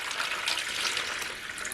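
Water streams steadily into a bowl for bread dough, a bright, even splashing pour lasting under two seconds with no talk over it.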